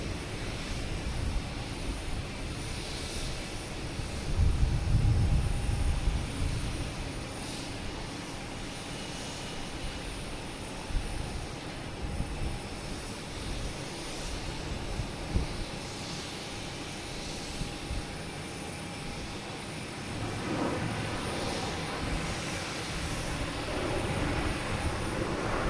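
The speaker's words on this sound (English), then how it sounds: "Next to arrive is United Airlines coming in from Houston." A United Airlines Boeing 737 MAX 9 arriving from Washington at Boston Logan makes a long, low jet roar. The roar swells and lingers at a distance, then fades into steady background rumble.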